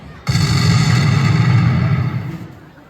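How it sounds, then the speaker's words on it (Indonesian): A sudden heavy cannon blast, hitting abruptly and then rumbling for a couple of seconds before fading out. "Sebuah ledakan besar menghantam hampir seluruh pasukan"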